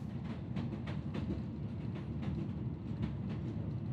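A European night train runs down a mountain along its tracks, a steady, close, full-bodied rumble with faint rhythmic clicks from the wheels passing over rail joints, continuous throughout with no voices.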